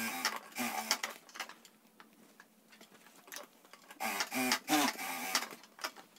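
A sewing machine stitching a fabric bag, with rapid mechanical needle chatter in two bursts separated by a quieter pause, close and fairly loud.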